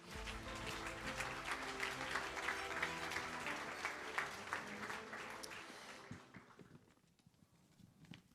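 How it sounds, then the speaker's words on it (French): An audience at a prize ceremony in the Gers applauds as the chamber president welcomes guests, sustained clapping with some low musical tones beneath, fading out toward the end. "On va vous applaudir."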